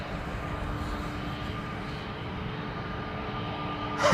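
A KLM Airbus A321neo departing Amsterdam Schiphol produces a steady, moderate jet rumble with faint humming tones, holding even in level before a brief louder burst at the very end.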